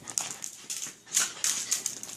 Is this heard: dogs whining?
yes